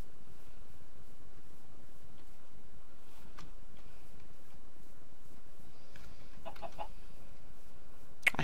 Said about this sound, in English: Why did I hear a chicken?